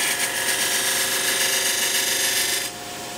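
Rolling a bead on a wood lathe while turning a sword, a chisel rubs against the spinning wood with a loud, steady, high rasping hiss that changes tone and drops off near the end.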